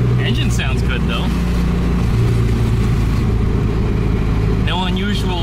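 A VW Beetle engine hums at a steady low idle throughout, close and constant, with someone talking over it at the start and again near the end.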